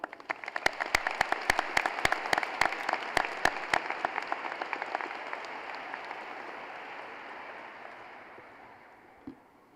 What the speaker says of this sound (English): give a round of applause to all of those who have supported you and encouraged you for the last 4 years